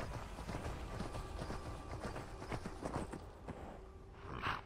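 Horse hooves clopping in Skyrim VR, a quick irregular run of soft thuds at moderate distance, continuing for several seconds without any talk.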